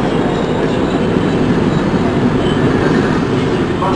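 An SNCB passenger train moves along the track with a loud, steady rumbling roar and faint rattling of the cars, unbroken for the whole stretch.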